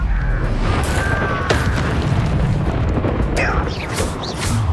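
Loud booming blasts from a Confringo spell in Hogwarts Legacy, with dense rumbling bursts and crackling debris over several seconds, and shouted battle cries mixed in.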